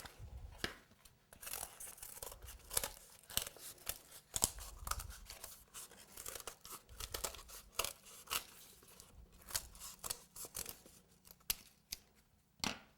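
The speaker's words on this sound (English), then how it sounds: "now what I want to do is cut the cardboard the same size as the cake" Scissors snip through a cake board while a sculpted baby shower cake is being decorated, with a run of close, crisp cuts and light crinkling, no talking.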